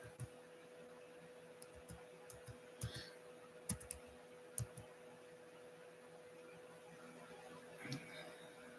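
Faint, sparse clicks of typing on a computer keyboard come in scattered, irregular taps over a quiet background hum, with no voice present.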